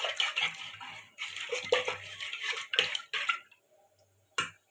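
Liquid is stirred in a pan of water with turmeric, chili powder and salt, giving a series of close, irregular clinks and sloshing scrapes in short bursts, with a last sharp knock after a brief pause.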